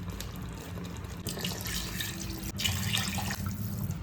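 Water is poured from a glass into a pan of chicken for chicken fry piece biryani, a steady, continuous splashing pour with no talking.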